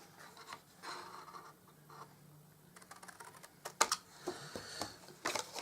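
Scissors make soft, faint close snips and rustles while trimming the paper edges of a handmade Valentine panda gift bag. The cuts come in irregular clusters in a quiet room.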